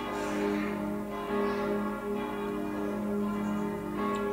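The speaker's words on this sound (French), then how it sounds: "J'aimerais bien qu'elles cessent ces cloches-là." Church bells ringing continuously, overlapping resonant tolls with a sustained hum, loud and fairly close.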